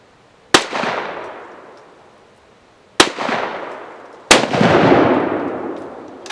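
Three gunshots fired at a cardboard box outdoors, each a loud sharp crack with a long rolling echo, the first two spaced a few seconds apart and the third following more quickly.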